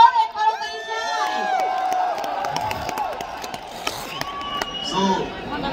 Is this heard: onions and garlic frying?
no